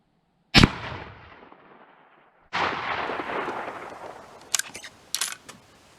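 Two loud, sharp rifle shots from a deluxe Winchester 1895, fired at a 100-yard target, the second a few seconds after the first, each followed by a long echoing decay, then a few quieter clicks of the action.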